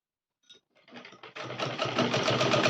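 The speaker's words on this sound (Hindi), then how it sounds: "इस तरीके से हम पूरे बेल्ट की सिलाई कर लेंगे ऊपर की।" A sewing machine stitches along a salwar belt, starting with a few hesitant clicks and then running into a fast, steady mechanical whirr with rapid needle chatter, close and prominent.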